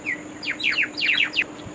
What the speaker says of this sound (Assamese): ৰাতিপুৱা উঠি চৰাই মাত শুনি ইমান ভাল লাগে